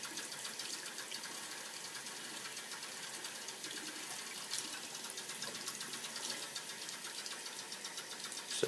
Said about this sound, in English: And then wash out the tank real good.